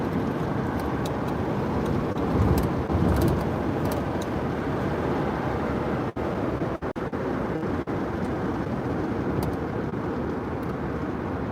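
Steady roar of street traffic along the Las Vegas Strip on a night in summer, a continuous wash of passing cars with a few louder swells and brief dips, no talking.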